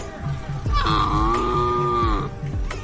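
A voice imitates a buffalo with a long, low, groaning bellow, held steady for over a second, close and loud.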